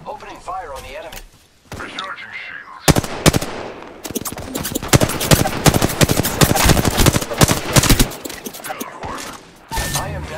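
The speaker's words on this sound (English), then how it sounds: "Opening fire on the enemy." Rapid bursts of automatic gunfire from an Apex Legends match ring out loud and close, long dense volleys broken by brief pauses and weapon handling clicks, with occasional in-game voice lines.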